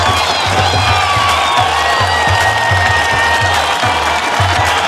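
Audience applause with cheering and whoops at an International Women's Day conference on women who deliver vaccines, loud and continuous throughout and filling the room without a break.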